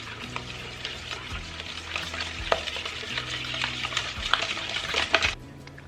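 A whisk or spoon beats cake batter with sugar in a bowl for an almond cake, giving a continuous scraping, stirring sound with small clinks against the bowl, steady and close with no talking.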